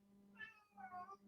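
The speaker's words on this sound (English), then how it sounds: "My cat is having zoomies and making noise." A house cat named Leo, racing around with zoomies, lets out two short meows in quick succession, close and clear over a low steady indoor hum.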